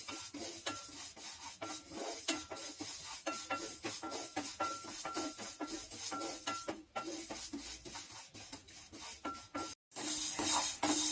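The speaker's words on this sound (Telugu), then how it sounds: "ముందుగా కందిపప్పుని దూరగా వేయించుకుందాం." Toor dal dry-roasting in a pan for rasam powder, stirred steadily with a spoon scraping and rattling the lentils against the metal, a continuous close scratchy rustle with soft sizzle and clinks.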